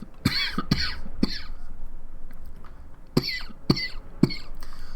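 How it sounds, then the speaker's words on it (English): A person coughs repeatedly in two clusters, three sharp coughs, a pause, then three or four more, close and fairly loud. "Please pardon the cough."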